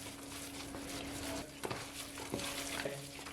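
Beef tikka pieces are stirred into a marinade with papaya powder, giving soft, wet squelching and scraping strokes at close range, with a few sharper knocks against the bowl and no talk.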